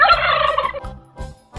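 A turkey gobble sound effect: one loud, warbling gobble up close, followed by a couple of shorter, softer bursts.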